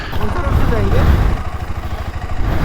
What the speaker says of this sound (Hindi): मेरा बाइक है स्टार्ट